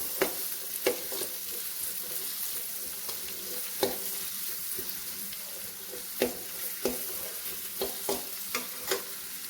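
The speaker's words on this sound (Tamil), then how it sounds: "இந்த ஸ்டேஜில் வெங்காயம் ஆட் பண்ணிக்கலாம். வெங்காயம் நல்லா வணங்கணும்." Onions frying in a pan for goat blood fry, a steady sizzle with repeated sharp scrapes and clicks of stirring spread across the whole stretch, moderately loud and with no voices.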